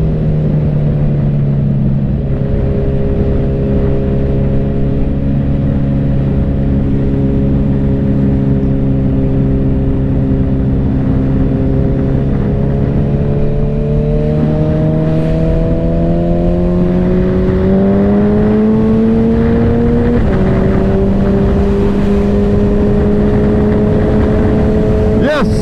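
A motorcycle rides along and accelerates, its engine tone rising and shifting through gears in a steady, loud drone heard close up from the rider's position.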